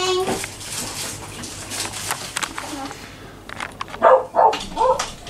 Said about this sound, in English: barking outside